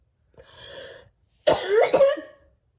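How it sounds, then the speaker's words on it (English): A person with cystic fibrosis coughs nearby: a short throaty cough, a pause, then a harsher double cough trailing into a rasp. "By the evening when I'm due for my next dose of Trikafta, I cough like this."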